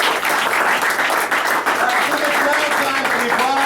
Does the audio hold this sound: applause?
yes